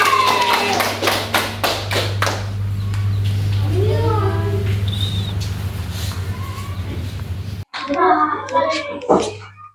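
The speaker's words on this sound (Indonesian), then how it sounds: "tepuk tangan juga untuk kelompok putih" Children clap for a group in a classroom, a burst of scattered applause at the start and again near the end, with kids' chatter and a steady hum in between.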